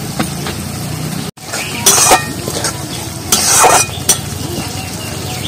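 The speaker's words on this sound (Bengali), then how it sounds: "এবার একটু জোরে যে জালটা দিয়ে আরো একটু মশলাটা কষিয়ে নিচ্ছি।" A spice masala for a masoor dal and gathi kochu dish is stirred and cooked down in a pan. Loud sizzling runs under repeated scraping bursts of the spatula against the metal, with one brief break in the sound.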